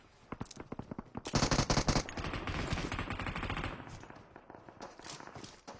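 Video game gunfire in sharp automatic bursts, starting with spaced shots, swelling into a loud, close rapid stream, then trailing off into scattered distant pops.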